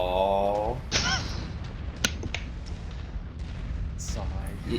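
Assault cannon fire in the MechWarrior 5 game, a few heavy booming impacts and blasts over a rumbling battle bed, with an electronic tone at the start and a voice talking over parts of it.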